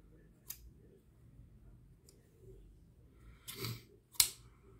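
Scissors snipping wool while crafting a Christmas figure, a few sharp isolated cuts spaced apart against near silence, close and crisp.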